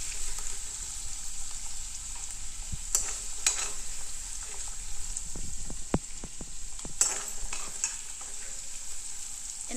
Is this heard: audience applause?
no